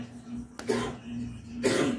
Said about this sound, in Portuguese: ignora as tosse aí do meu filho, tá?